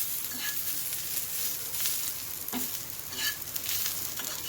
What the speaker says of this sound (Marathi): भाजून घेऊया आता मसाला व्यवस्थित आपला भाजतच आला आहे